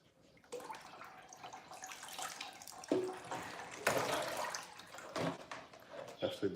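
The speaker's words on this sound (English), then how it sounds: "to wash the plates" Plates are washed under running water at a kitchen sink, a tap splashing unevenly with clinks and scrubbing bursts, close by, with a little faint talk.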